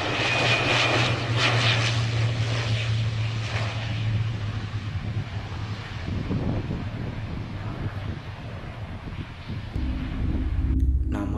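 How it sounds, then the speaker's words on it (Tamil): A Hawk jet trainer and ground-attack aircraft roars past overhead. The loud, broad engine rumble holds steady, then fades away over several seconds, with some wind buffeting on the microphone. "அதுக்கப்புறம் தான் தெரிஞ்சது இது ஹாக் விமானங்கள்."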